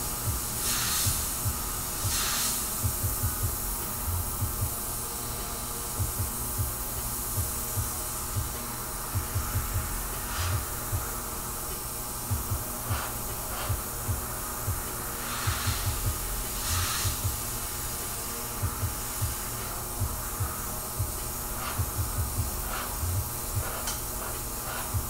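An Iwata airbrush spraying paint onto a portrait produces a continuous close hiss, with intermittent brief bursts and soft clicks as the trigger is worked, no voice.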